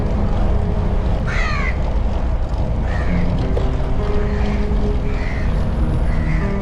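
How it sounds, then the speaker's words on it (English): Several crows caw in short harsh bursts at moderate distance over a park in Changi at dawn, their calls spaced out across a loud, steady background rumble of wind or traffic. "There are a lot of crows though."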